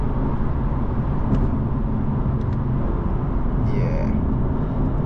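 Interior drone of a BMW with a DCT dual-clutch gearbox under way, a steady low road and engine rumble with brief faint blips as gears change, no talking.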